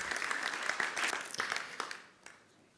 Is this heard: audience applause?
yes